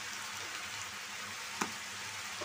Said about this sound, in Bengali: এখন আমি লবণ হলুদ সব নাড়াচাড়া দিয়ে মিশিয়ে দিব বটবটি ভাজির সাথে